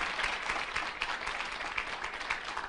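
A crowd applauding steadily, dense clapping that stays fairly even throughout with no voices standing out.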